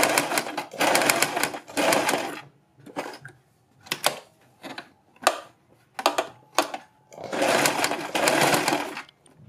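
A sewing machine stitching a neck band on a garment runs in short bursts of rapid mechanical clatter, with longer runs at the start and end and brief pauses between them.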